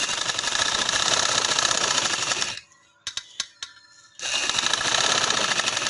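A sewing machine stitches piping onto a dupatta with a loud, fast, steady whir. It stops for about a second and a half, broken by a few sharp clicks, then runs again at full speed.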